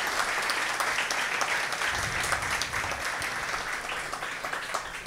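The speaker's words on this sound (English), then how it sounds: "Can we give our leaders a round of applause" A crowd at a church event in a Toronto cathedral applauds steadily, a dense wash of clapping that holds at the same loudness throughout.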